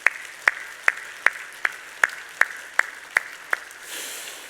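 A church congregation at an anniversary service claps together in a steady unison beat, about ten sharp, evenly spaced claps in a row, fading into a soft wash of noise at the end.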